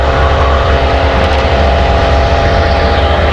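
The 300-horsepower engine of a 1,500-pound Extra 300 aerobatic airplane roars at full power on takeoff at Oshkosh, a loud, steady propeller drone with dense broadband noise and no voices.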